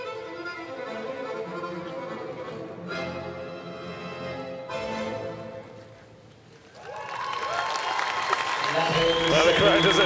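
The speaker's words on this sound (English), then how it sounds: "the crowd, as I said, encouraged to silent applause, and they just can't help themselves." Spectators at Paris 2024 Paralympics dressage break into a swelling burst of applause in the last few seconds, after a stretch of commentary talk.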